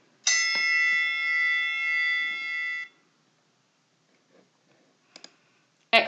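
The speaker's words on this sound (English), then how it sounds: "where's my dingy bell?" A small desk bell is struck once, giving a bright ringing tone that sustains for a couple of seconds before cutting off, followed by soft clicks and two brief metallic taps near the end.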